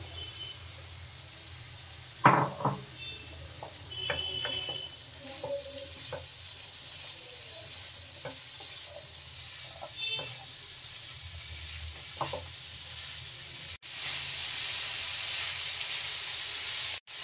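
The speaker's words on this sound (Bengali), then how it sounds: "কড়াইশুঁটি আর আলুটা দিয়ে একটুখানি কষাবো" Green peas and potato, with cashews and raisins, are sautéed in a wok for a Bengali ghugni. A low, steady sizzle runs throughout, broken by occasional spatula scrapes and stirring knocks.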